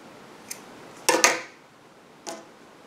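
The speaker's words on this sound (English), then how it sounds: "you're going to cut your previous colored yarn" Scissors cutting colored yarn in a crochet project, a few sharp snips close by, with a quick double snip in the middle and a single faint click before and after.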